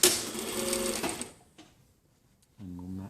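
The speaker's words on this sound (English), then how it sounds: "so just sew from the top down to the notch" A sewing machine stitches a jacket sleeve seam in a fast, even run of needle strokes lasting about a second, pauses briefly, then starts again near the end.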